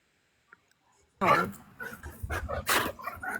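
A dog barks in several loud, close bursts after a quiet start, with people talking over and between the barks in a home setting during a live stream.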